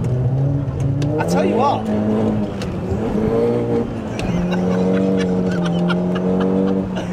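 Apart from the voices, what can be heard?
Seat Leon Cupra K1 car engine revving while driving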